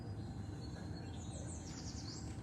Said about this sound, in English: You hear the pretty bird?